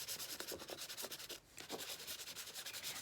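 Paint being rubbed into a sketchbook page through cling film, a close, steady rhythmic rasping rub in quick repeated strokes with one brief pause midway, quiet and alone.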